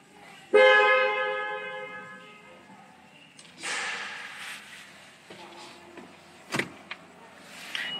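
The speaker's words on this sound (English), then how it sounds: "I have to honk because I'm not registered here." A car horn on a NIO electric car sounds once in a long, loud blast, followed by rustling, a thud and other handling noises in the car.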